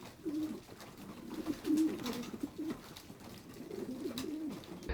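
Racing pigeons in a loft cooing softly in repeated low, rolling calls from several birds nearby, quiet and continuous with brief gaps.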